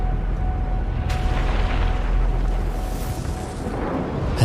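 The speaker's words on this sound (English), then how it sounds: "Crumbling buildings. The ground erupting before you. Meteorites falling." Deep rumbling explosion and eruption effects, with low booms and a heavy sustained roar of crumbling buildings and falling meteorites, loud and close, rising to a final burst, no voices.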